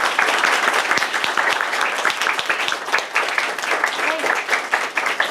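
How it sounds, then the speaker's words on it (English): A crowd at a liberal arts business conference applauds a $500 scholarship winner, with brisk, continuous clapping that stays level and fairly loud throughout. "A round of applause."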